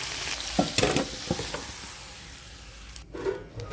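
Steamed food fries in oil in a pan as a home lunch is cooked, giving a few sharp scrapes and clatters of a spatula over a soft, steady sizzle, close by, easing to quieter frying toward the end.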